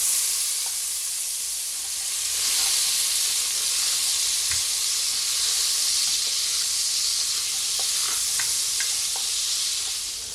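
Butter melts and sizzles in a pan used to fry beef for pot roast, a steady close hiss of frying with scattered small pops and crackles throughout, with no voices.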